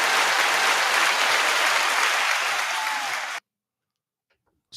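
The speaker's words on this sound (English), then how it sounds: "Just give me a hand clap." A small group claps in a brisk, continuous round of applause for about three seconds before it cuts off abruptly into silence.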